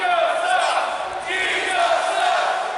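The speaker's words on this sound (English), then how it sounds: "Crowd not a fan of Chico Adams" A pro wrestling crowd boos loudly and steadily, a sustained mass of jeering voices filling the arena.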